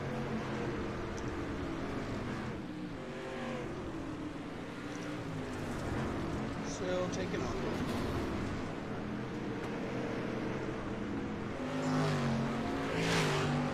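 Dirt street stock race car engine under throttle at Lanier in the sim racing game iRacing, a steady, droning engine note with rising and falling pitch as the throttle is feathered, continuous and fairly close.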